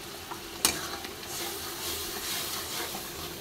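Food is stirred in a pan after a splash of water, a soft continuous sizzle and hiss with a sharp clack of the utensil near the start and gentle scraping after, close and without voices.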